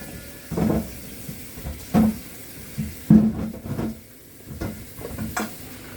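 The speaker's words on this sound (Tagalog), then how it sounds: "So yung apple po, hugasan po natin" An apple is washed with water in a home kitchen: soft, intermittent splashing and rubbing sounds come in short bursts, fairly close and quiet.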